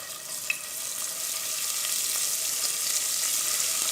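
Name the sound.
garlic frying in oil in a saucepan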